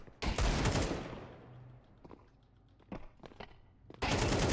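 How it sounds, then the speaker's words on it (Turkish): Automatic gunfire in the game Valorant comes in loud bursts at the start and the end, with quieter single shots and clatter in between. "Vur vur ona. Peki ben vurayım ben."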